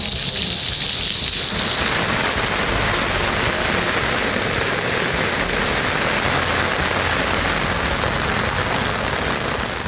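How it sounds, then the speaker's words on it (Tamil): Steady, heavy rain falls across Thanjavur district in Tamil Nadu, a dense, continuous hiss of drops on the ground that stays loud and even throughout with no voices. "பெய்த மழை மண்ணை குளிர்வித்தது"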